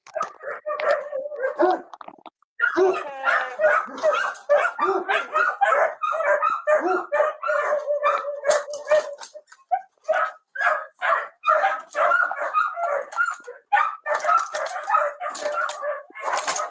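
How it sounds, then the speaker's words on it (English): A big dog barks in a police bodycam recording, loud repeated barks in ragged bursts with short pauses, and voices can be heard at times under the barking. "Come on, big dog."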